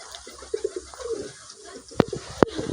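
Soft pigeon coos close by in a home loft, a few low murmuring calls broken by two sharp louder knocks or flaps near the end.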